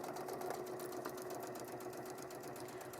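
A sewing machine stitches continuously around the four sides of a piece of Liberty garden-print fabric, a steady close rhythmic whirr running unbroken throughout with no talking.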